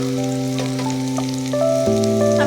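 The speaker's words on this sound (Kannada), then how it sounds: "ಇವಾಗ ಚೆನ್ನಾಗಿ ಅದನ್ನ ಫ್ರೈ ಮಾಡ್ಕೊಳ್ಳಿ" Onions, garlic and green chillies frying in a pan for a paneer curry: a steady loud sizzle throughout, with sustained humming tones running beneath it and a shift midway, no talking.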